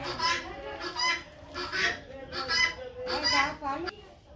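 Hens in a village yard under an overcast sky cluck in repeated short bursts, fairly close and loud, one call following another over a few seconds.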